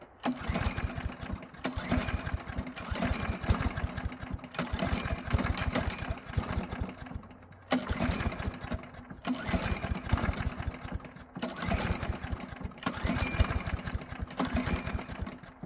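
A small engine with a flooded carburetor runs in rough, uneven bursts, loud and close, cutting out briefly several times before catching again.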